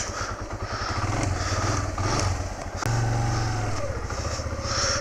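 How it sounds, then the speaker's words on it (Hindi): A warmed-up motorcycle idles with a steady low throb, then revs and pulls away on a solo trip around Skardu, the engine note rising and shifting mid-way, close and continuous. "बाइक वार्म अप हो चुकी हुई है, तो लेट्स लीव"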